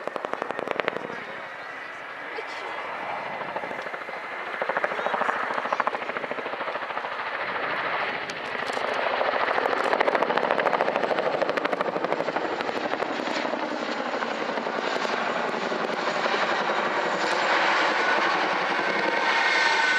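A Chinook helicopter performs a display manoeuvre at an airshow, its heavy twin-rotor drone and thumping blades swelling and holding loud as it passes close, with a commentator talking over it.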